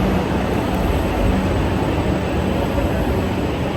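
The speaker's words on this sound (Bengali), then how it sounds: "দেখলাম যে মেট্রোটা বেরিয়ে গেল সামনে থেকে" A Kolkata metro train pulls away from the platform, filling the space with a loud, dense, steady roar and hiss. The sound stays constant and close and is heard alone, with no voices.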